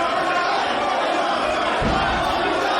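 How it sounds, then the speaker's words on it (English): A rough Los Angeles crowd at a GCW wrestling show jeers at a wrestler, a dense roar of boos and shouts throughout, swelling louder near the end. "the notoriously difficult and rough LA crowd letting him have it"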